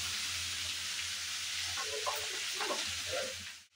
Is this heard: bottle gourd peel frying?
yes